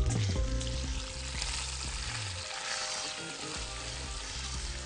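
Leg of mutton dropped into a pan with garlic, giving a steady loud sizzle and crackle of frying, with low thuds and scraping from stirring, and no talk.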